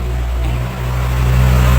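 Steady car traffic rumbling past from a roadside highway, a continuous low engine drone with a vehicle swelling louder near the end.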